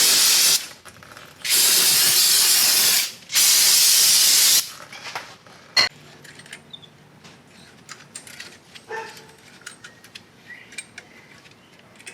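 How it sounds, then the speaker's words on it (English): Three long, loud bursts of brake parts cleaner spray hiss, each lasting about a second, followed by quieter clinks and small handling noises, during brake caliper work on a Ford F-150. "Spray this down with brake part cleaner."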